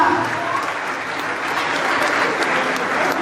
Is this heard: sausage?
no